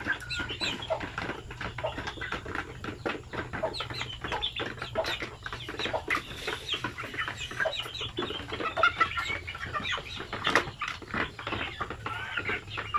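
Two-month-old Sampin native chickens cluck continuously in a group, a dense chatter of short, overlapping clucks near and far over a steady low background hum.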